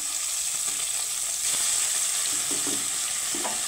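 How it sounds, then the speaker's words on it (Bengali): Bata fish pieces frying in hot oil in a pan, producing a steady, close hiss and crackle with scattered spits and light utensil taps, heard on its own. "আমার বাটা মাছগুলো সুন্দর করে আমি ভেজে নিয়েছি"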